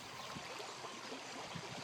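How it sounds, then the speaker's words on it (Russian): A flowing stream in the video game The Painscreek Killings makes a steady, soft watery rush and trickle, faint and unbroken with no voices. "Ручей, допустим, у нас прямо здесь."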